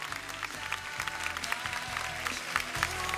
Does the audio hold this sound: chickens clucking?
no